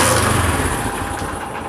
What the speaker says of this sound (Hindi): तो हम बाइक को स्टार्ट करते हैं, चेक करते हैं कि इसकी ज़्यादा कम तो नहीं है।